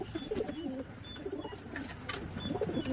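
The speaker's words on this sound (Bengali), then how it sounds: "পুরো টেডি পায়রা দেখো" Pigeons of the teddy breed coo softly and repeatedly in a loft area, low murmuring calls recurring through the clip over a faint steady background hiss.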